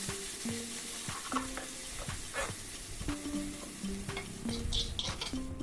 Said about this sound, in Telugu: ఇప్పుడు ఇదే నెయ్యిలో మనం స్మాష్ చేసి పెట్టుకున్న ఈ చికెన్ని వేసేసేయండి.